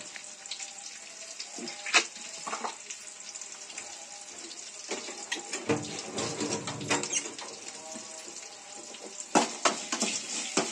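Onions fry in a pan for Rayalaseema uggani bajji, giving a steady, soft, close sizzle broken by occasional stirring clatters and scrapes. No voices are heard.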